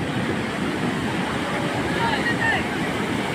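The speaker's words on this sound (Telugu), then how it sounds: "అసలు ఈ శబ్దం, సముద్రం నుంచి ఆ నీళ్ళ శబ్దం వస్తుంటే" Sea waves wash in at a beach near Konark at dawn under cloudy skies, a continuous broad rushing roar, fairly loud and steady, mixed with wind buffeting the microphone.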